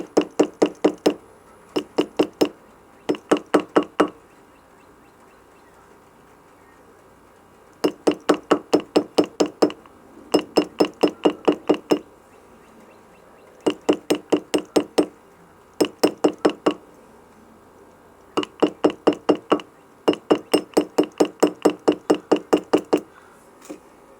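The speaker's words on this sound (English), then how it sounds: "let's tap a little bit with our ball peen hammer here." A ball peen hammer tapping on metal: quick bursts of sharp, evenly spaced taps in repeated groups separated by short pauses, loud and close.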